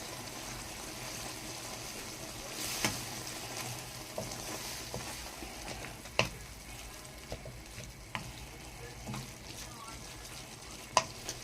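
Salted food frying in a pan and being stirred, a steady low sizzle running throughout with occasional sharp clicks of a utensil against the pan, fairly faint and close.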